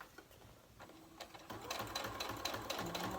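Sewing machine stitching around the edge of a small paper mini file folder for journals, first a few separate needle strokes, then a fast, steady run of rhythmic stitching at close range.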